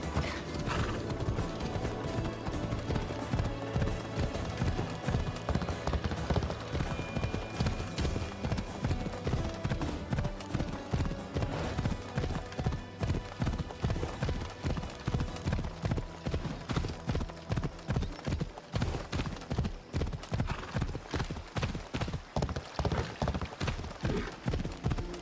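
Horse galloping in Assassin's Creed Odyssey, a close, steady rapid clip-clop of hooves pounding on for the whole stretch with a brief whinny near the start and game ambience underneath.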